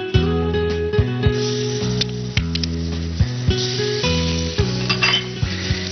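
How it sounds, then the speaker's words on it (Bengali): Garlic hits hot oil in a pan while Awadhi murgh is being cooked, giving a loud, steady sizzle with light, regular clinks and stirring sounds running through it. "তেলটা গরম হয়ে গেছে, এবার আমি রসুন বাকিটা দিয়ে দেবো যেটুকু ছিল"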